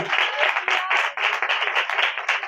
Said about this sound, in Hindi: जोरदार तालियां बजाना शुक्रिया के लिए।